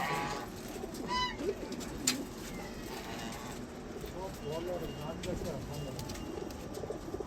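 Pet pigeons kept in a coop coo in soft, rolling repeated calls nearby, alongside faint chirps and a low background murmur of voices.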